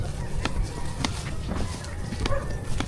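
A chicken clucks in short, scattered bursts outdoors around a house with a play area and kitchen, moderately near over a noisy, rumbling background, with no talking.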